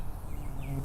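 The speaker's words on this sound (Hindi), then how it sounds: "उसैद भाई मक्खियाँ तो देखें।" Cartoon flies and mosquitoes buzz around street food at a chaat stall, a faint continuous insect drone over a dense background hum, with no voices.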